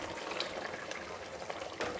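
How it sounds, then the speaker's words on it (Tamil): Mixer rinse water poured into a simmering pot of vegetarian fish-style curry with coconut, a steady liquid trickle and splash lasting throughout, moderately close with no voices. "இந்த மிக்ஸி கழுவின தண்ணி இதில் ஊற்றிக்கலாம்."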